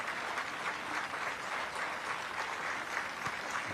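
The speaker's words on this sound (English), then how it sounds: "Both stands erupting in applause." Sustained applause rises from both stands at a high school football game, Lincoln against Chiles, a dense steady wash of clapping with crowd noise throughout.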